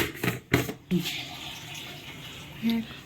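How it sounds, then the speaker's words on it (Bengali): Water splashing as hands are wetted at a kitchen sink while preparing paneer, a few short bursts of close splashing in the first second, then quieter handling with a brief tonal clink near the end. "হাতটা জল দিয়ে একটু ভিজিয়ে নিতে লাগবে।"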